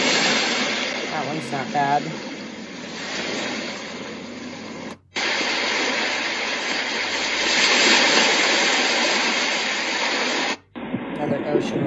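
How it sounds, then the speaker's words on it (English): Ocean-wave setting on a Heavtuen white noise machine, a steady broadband wash of surf-like hiss that swells and fades, briefly cutting out twice, with a person speaking over it near the start. "Ocean."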